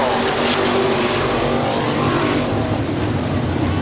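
Race cars lapping at Midvale Speedway roar past in a loud, continuous engine drone that holds steady, with a faint commentator's voice mixed beneath it.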